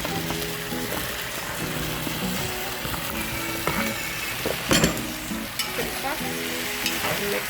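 Breadfruit being stirred into a spicy Trinidad-style oil down with salted pigtails and dasheen bush: a steady broad sizzle under repeated scraping, clunking stirs in the pot, one louder clatter in the middle, no talking.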